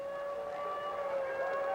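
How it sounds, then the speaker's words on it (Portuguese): A steady, droning siren wails at a fairly constant pitch at a 1976 Brazilian championship football match, faint and distant, with no other sounds. "Voltou a sirene."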